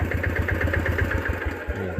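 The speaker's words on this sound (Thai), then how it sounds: "ถ้าสตาร์ทกุญแจก็คือบิดสตาร์ทได้เลย" A Yanmar diesel plate compactor engine, an old Japanese unit, runs with a steady rapid low thumping pulse close by, sounding like it has just caught after a key start and is idling unevenly.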